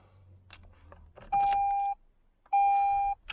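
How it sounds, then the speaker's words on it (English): Dashboard warning chimes in a Toyota Aygo X with a physical key: two loud, steady electronic tones, each about half a second long, separated by a short gap, over faint cabin noise. "The usual beeps and bongs that you get from a Toyota."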